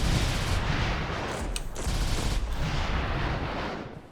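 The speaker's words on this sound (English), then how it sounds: "Oh, these are the missiles, right?" Missiles fire in the space video game Cosmic Dawn, a dense, continuous rushing barrage with a couple of sharper launch cracks, loud and sustained for the whole stretch.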